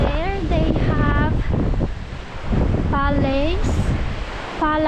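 Strong wind buffets the microphone over a constant wash of surf at Long Hai Beach, Vietnam, while people talk intermittently on top of it.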